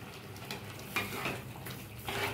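Palm kheer with milk, coconut and sugar being stirred in a pot, a soft quiet scraping and gentle bubbling with a few faint clinks of the spoon, no voices.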